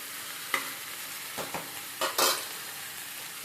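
Okra frying in oil is stirred in a pan, with a steady hiss of sizzling broken by several short scraping strokes of the spoon, close and moderately loud, with no voices.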